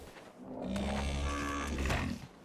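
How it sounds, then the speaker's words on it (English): A cow moos in the Runescape Dragonwilds fantasy survival video game, one long, loud, low bellow with a harmonic tone, heard up close and alone. "oh, hey, is that a cow?"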